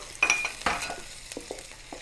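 Onion with ginger garlic paste frying in a pan, a soft sizzle under intermittent scrapes and stirs of a spoon against the metal, close and fairly quiet, with no talking.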